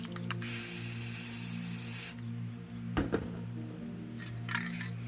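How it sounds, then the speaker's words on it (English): A spray paint can hisses in a long continuous burst, painting mountains in blue and white, then a short clatter and a couple of brief spritzes over a low electrical hum. "So I'm going to spray that on there."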